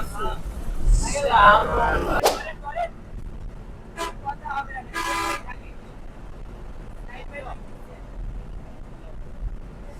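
Vehicle horns on a road jammed after an accident near the Jamuna bridge entrance in Bangladesh, seen from a bus: a loud early blare, then short scattered toots over engine rumble and passing traffic.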